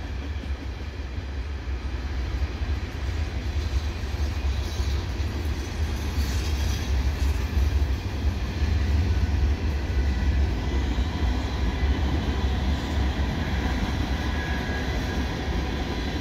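A CN freight train led by three locomotives, including ex-Citirail units, rolls past hauling a long string of gondola cars at the Cardinal Avenue bike path in Dorval, a steady loud rumble of wheels on rails lasting throughout without speech.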